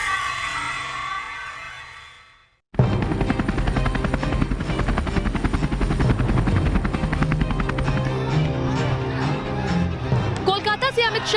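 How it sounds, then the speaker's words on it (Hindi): A helicopter carrying a politician lands at a Midnapore helipad, its loud, steady rotor thump and engine whine starting abruptly after a quieter opening and holding throughout, with voices faintly mixed in. "कोलकाता से अमित शाह का हेलीकॉप्टर मिदनापुर लैंड कर चुका था।"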